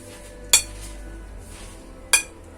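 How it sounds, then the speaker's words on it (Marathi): A ball of cooked jaggery syrup is dropped onto a plate twice and gives two sharp, bright clinks about a second and a half apart. Each sounds close and clear over a quiet kitchen background. "एका प्लेटमध्ये टाकून बघायची टनकन आवाज आला पाहिजे"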